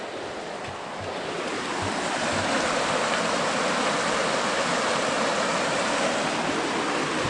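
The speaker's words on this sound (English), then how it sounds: "on the AT, I believe this is Stover Creek" Stover Creek on the Appalachian Trail rushing steadily beside a footbridge, a broad continuous wash of flowing water that stays loud and even throughout, with no voices.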